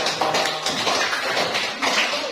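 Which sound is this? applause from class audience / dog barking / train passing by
applause from class audience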